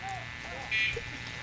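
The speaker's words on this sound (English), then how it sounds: "and he goes for the buzzer." A short, high electronic buzzer sounds once, briefly, over a low background hum.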